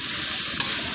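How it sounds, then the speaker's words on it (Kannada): Finely chopped capsicum sizzling in hot oil for a fried rice tempering, a steady close hiss and crackle that fills the short clip with no voices. "ಇಲ್ಲಿ 1 ಕ್ಯಾಪ್ಸಿಕಮ್ನ ಈ ರೀತಿಯಾಗಿ ಸಣ್ಣದಾಗಿ ಹೆಚ್ಕೊಂಡು ಅದನ್ನು ಕೂಡ ಹಾಕ್ಕೊಂಡಿದ್ದೀನಿ ಒಗ್ಗರಣೆಗೆ"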